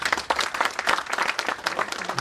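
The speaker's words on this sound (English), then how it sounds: "Give her a round of applause." An indoor audience bursts into dense, continuous applause, many hands clapping close together with no pause over the short burst, fairly loud and close, with no voice above it.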